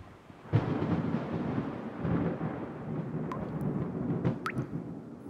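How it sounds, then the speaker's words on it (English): Steady rain patters in a cartoon scene, with scattered drips and a low thunder rumble rolling through, the downpour continuous and fairly close. "Gracious me, Melodities, it's about to start raining."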